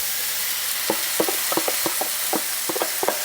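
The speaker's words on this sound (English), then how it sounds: "We're going to give this a nice little saute till those onions get clear" Cut vegetables and onions frying in a tablespoon of oil, a bright steady sizzle up close, with soft spatula clicks and scrapes as they are stirred.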